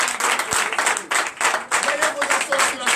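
A church congregation claps and cheers during a Sunday worship service in Comè, Benin, a dense continuous burst of applause over three seconds with voices mixed in.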